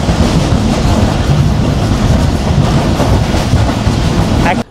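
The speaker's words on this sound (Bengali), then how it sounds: "আমাদের ট্রেন ছুটে চলছে এরকম খুব সুন্দর সুন্দর পাহাড়ি উপত্যকার মধ্যে দিয়ে" A train running through hilly valleys in Pakistan on the Islamabad to Multan line, a loud steady rumble and rattle of wheels on track heard from onboard, continuous and unbroken until it cuts off at the end.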